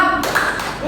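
A school class claps out a short rhythmic pattern, a quick burst of sharp, close hand claps and taps lasting about a second.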